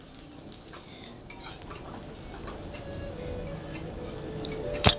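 Cauliflower leaves being sautéed and stirred in a pan, with soft scraping and clinking of a utensil against the metal over a low, steady frying hiss, and a sharper clatter right at the end.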